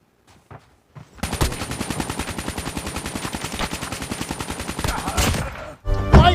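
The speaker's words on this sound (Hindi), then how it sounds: "फायरिंग की आवाज़ यहीं से आ रही है।" Sustained automatic gunfire in Call of Duty Mobile, a rapid rattling burst lasting several seconds after a few faint opening shots, then stopping abruptly before a louder thump.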